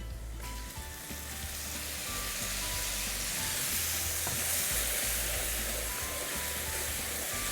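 Spice slurry with Kashmiri red chilli frying in hot oil for a dhaba-style dal tadka, a loud, steady sizzle that swells after a quiet start and continues with stirring, no talking.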